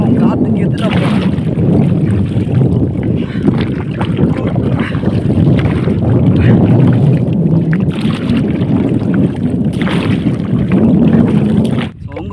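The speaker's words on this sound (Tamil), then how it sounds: "பார்த்தீங்கன்னா காற்று நம்மளுக்கு எதிர் திசையில் அடிச்சுட்டு இருக்கு." Wind rushes steadily against a bamboo boat on a lake, with gusty blustering noise close to the microphone throughout, and a person talks over it.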